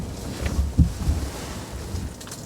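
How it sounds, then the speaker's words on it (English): Wind gusts across a microphone outdoors on a lake during bluegill fishing, a close, blustery rumble with a few louder buffets, no talk. "It is windier than crap out too"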